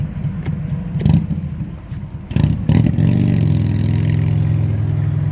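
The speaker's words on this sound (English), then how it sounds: "That door sounded an awful lot like a motorcycle" An automatic door at an original Phillips 66 gas station lets out a low, motorcycle-like rumble with rattling bursts that settle into a steady engine-like drone, close and loud.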